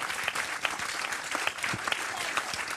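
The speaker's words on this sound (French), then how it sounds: "Michel, qu'on applaudit Michel." Studio audience applause on a French cooking show, a dense, steady wash of many hands clapping throughout, fairly loud and close with no voices over it.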